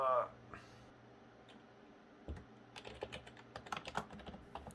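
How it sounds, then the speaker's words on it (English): Computer keyboard typing on a Windows XP machine, a continuous stream of quiet, fast clicking keystrokes that picks up and grows denser over the last couple of seconds, heard up close with no talk. "This uninterrupted typing you can hear right now is me blindly entering the description"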